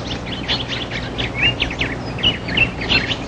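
A family of Formosan blue magpies in disturbed forest near human habitation, giving a rapid series of short, harsh chirping calls in repeated bursts, fairly close against faint background noise.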